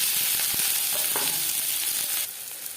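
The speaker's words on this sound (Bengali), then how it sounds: "রিফাইন্ড অয়েল গরম হয়ে গেছে এবার দিয়ে দেবো পেঁয়াজ কুচি" Chopped onion hits hot refined oil in a pan for a fish roe and eggplant dish, giving a steady, close hiss of sizzling with a few soft stirring knocks, easing slightly near the end; no talking.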